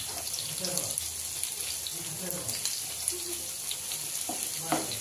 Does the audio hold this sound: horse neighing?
no